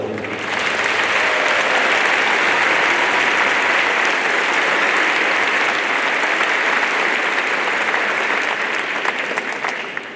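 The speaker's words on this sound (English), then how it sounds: "Would you please join me in a round of applause and appreciation for all that they've done?" Sustained audience applause fills a high school graduation ceremony, a dense, steady wash of many hands clapping at even loudness for about ten seconds before easing slightly at the end.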